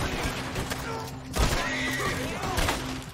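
A horse neighs and whinnies amid gunfire in Red Dead Redemption 2 online, loud and close, with shots and hoofbeats layered underneath over a few seconds.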